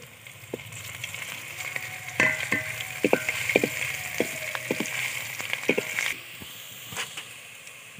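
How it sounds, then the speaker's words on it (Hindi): Ginger, garlic and onion fry in a pan for biryani, with a steady soft sizzle and irregular scraping, tapping stirs from a spoon, close and moderately quiet, without voices. "ये हमारा अदरक लहसुन और प्याज भून चुके हैं।"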